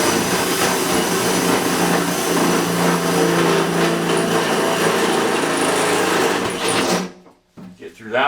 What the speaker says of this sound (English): You can keep drilling